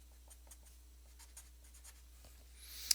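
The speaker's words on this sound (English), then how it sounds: "we draw ourselves a quick free body diagram" Pen strokes across paper as a free body diagram for a physics problem is sketched by hand: faint, close scratchy marks in short bursts, ending in a louder quick scribble, with no talking.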